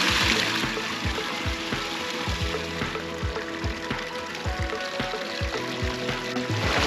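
Water pouring and splashing into a small backyard koi pond, a continuous close trickle and gurgle with faint clicks and drips, moderately quiet and with no voices.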